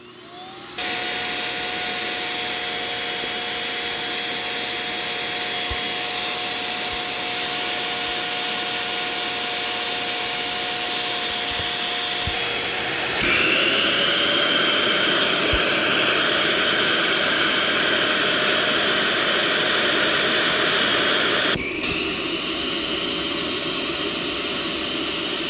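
A Vorwerk VK130 vacuum cleaner starts up and runs at maximum power, a loud steady high-pitched motor whine with airflow rush that shifts in pitch twice as the airflow changes, with no talking.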